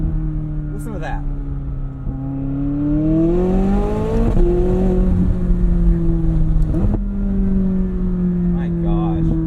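A 2020 McLaren 600LT Spider, a drop-top, drives with its engine and exhaust loud and close, droning steadily and climbing in pitch through revs with gear-change dips and sharp pops, while a voice talks briefly underneath.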